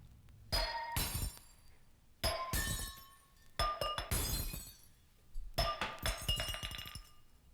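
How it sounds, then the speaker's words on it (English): Glass shatters again and again in a stereo LP sound-effect demonstration, four separate loud crashes, each with a sharp impact followed by tinkling shards scattering and settling. "Breaking glass."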